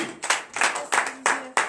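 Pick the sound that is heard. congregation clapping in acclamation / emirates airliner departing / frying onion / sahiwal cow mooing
congregation clapping in acclamation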